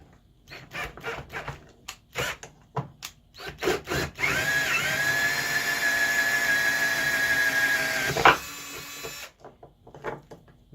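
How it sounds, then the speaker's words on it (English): A power drill whines steadily for about four seconds as it drills through a Ram quad headlight housing on a workbench, surrounded by clicks and handling noises before and after. "you want to drill right through the middle here"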